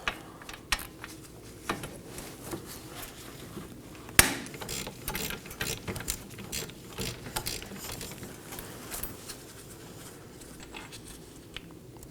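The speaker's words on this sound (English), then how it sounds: "Now I'm going to break loose my third bolt." Ratchet working a front wheel hub bolt loose on a 2018-2024 Chevrolet Equinox, a steady run of faint mechanical clicks and creaks with one sharp crack near the middle, no talking.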